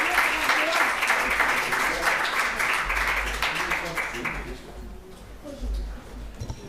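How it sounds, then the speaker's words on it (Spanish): Audience applause at a panel discussion during a Spanish literary event, a steady dense clapping that fades out after about five seconds, leaving quieter room noise with faint voices. "fuerte el aplauso para todas las personas que van a intervenir"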